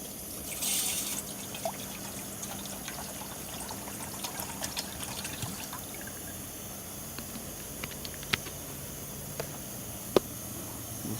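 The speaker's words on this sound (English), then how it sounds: "I'm gonna put my half liter of water" Faint, thin trickle of half a liter of water pouring into a pot on an MSR Whisperlite International camping stove, quiet and continuous, with a few small clinks and taps scattered throughout.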